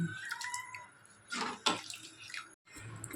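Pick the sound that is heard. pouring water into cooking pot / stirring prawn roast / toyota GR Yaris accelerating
pouring water into cooking pot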